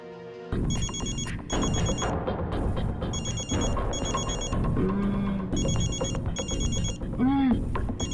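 A telephone rings repeatedly and goes unanswered in a tense crime-drama scene, its bursts of ringing recurring in a steady pattern over music and other background sound.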